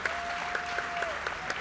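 Audience clapping after an affordable housing panel, a steady, moderately dense round of applause with faint voices and a brief tone over it.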